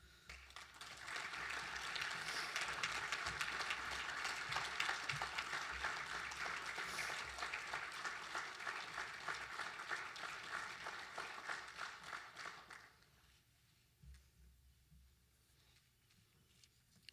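A ceremony audience applauds public service honorees, sustained clapping from a large crowd for about twelve seconds before it fades out.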